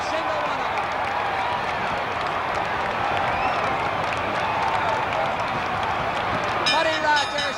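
A wrestling crowd at a six-man tag match roars and applauds steadily throughout, a dense, loud wash of cheering with a brief swell of shouts near the end.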